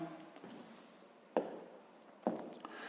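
Pen strokes while writing out a fifth-grade maths exercise: soft, close scratching with two sharper taps on the page, no voices.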